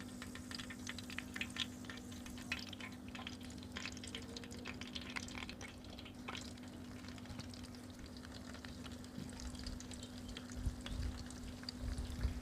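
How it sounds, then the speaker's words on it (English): Samosas and spring rolls shallow-fry in vegetable oil with a quiet, even bubbling sizzle, steady and faint, with a low hum underneath and occasional light crackles. "Now let's fry them in vegetable oil until they turn golden brown in color."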